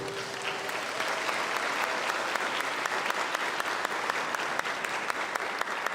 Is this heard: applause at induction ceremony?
yes